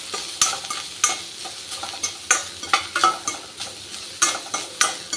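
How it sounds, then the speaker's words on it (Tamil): A spoon stirs grated coconut as it dry-roasts in a pan for Navaratri puttu, scraping in a steady rhythm of sharp strokes over a soft sizzle, close and clear with no talking. "இப்போ கொஞ்சமாக தேங்காயும் போட்டு இதையும் நல்லா வறுத்துக்கலாம்."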